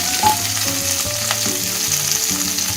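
Sliced large onion fries in a kadai with curry leaves, ginger and garlic, producing a loud, close, continuous sizzle and crackle, with a melodic tune playing underneath.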